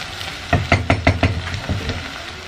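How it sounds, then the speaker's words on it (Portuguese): Pasta filling frying in melted margarine in a home kitchen pan, a soft sizzle under a quick run of close knocks from stirring. "Fritar mais um pouquinho, tá bom?"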